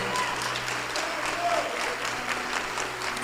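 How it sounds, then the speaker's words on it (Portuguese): A church congregation claps during an evening worship service, a steady, moderately distant wash of applause with a low background hum. "Isso, aplaude a palavra."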